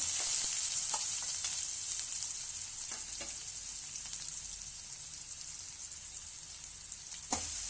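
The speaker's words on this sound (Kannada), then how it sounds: "ಈರುಳ್ಳಿನ ಕಂದು ಬಣ್ಣ ಬರೋ ತನಕ ಫ್ರೈ ಮಾಡ್ಕೋಬೇಕಂದ್ರೆ ಗೋಲ್ಡನ್ ಬ್ರೌನ್ ಆಗೋ ತನಕ ಫ್ರೈ ಮಾಡ್ಕೋಬೇಕು" Onions fry in hot oil with mustard seeds in a pan for a village-style brain and egg fry, a steady close sizzle with occasional crackles and stirring clicks, no voices.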